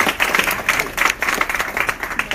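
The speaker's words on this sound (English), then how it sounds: "give yourselves a round of applause" A round of applause from a room of students at an etiquette boot camp, brisk and fairly close, with many hands clapping in a steady irregular patter that carries through to the end.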